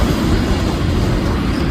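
A long Australian freight train hauled by four locomotives rolls past through bushland on the Adelaide to Perth line, a loud, continuous, close rumble and roar with no break.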